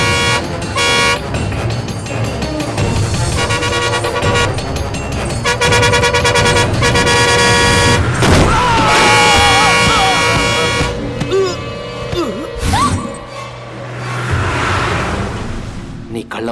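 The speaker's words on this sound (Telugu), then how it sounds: "అతను ఒక లారీ వచ్చి గుద్దేశాడు" A film sound effect of a lorry blaring its horn in long repeated blasts over loud music and engine roar, building to a crash-like impact and then a quieter tail with a voice briefly heard.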